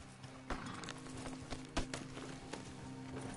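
A horse's hooves clip-clop in a video game, a steady run of close, sharp hoof strikes over a constant background hum, with no talking.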